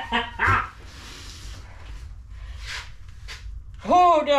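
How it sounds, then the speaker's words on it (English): A dog barks in a couple of short, sharp yips, one near the start and a louder, tonal one at the end, set against a quiet room with faint background sounds. "Oh, doggy."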